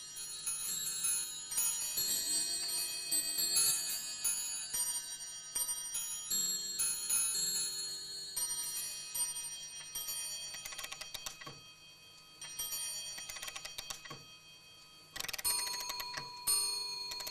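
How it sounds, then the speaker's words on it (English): Rapid, bright metallic bell chimes ring out in quick succession from a clockwork mechanism whose pins trip bell hammers, a busy mechanical tinkling that pauses briefly and then resumes loudly near the end. "Minute pins activate bell hammers"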